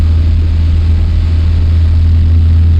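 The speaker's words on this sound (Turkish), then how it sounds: "Ama motorun sesi değişti sanki." A steady low engine drone rumbles loudly and continuously, like a minibus engine idling or cruising in high gear in Tourist Bus Simulator, with no voices over it.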